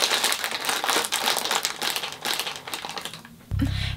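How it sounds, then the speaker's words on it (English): A chocolate wrapper is crumpled and crinkled close by in dense, continuous crackling bursts, loud and unbroken, with a brief low thump at the very end. "stop crumpling his chocolate packet"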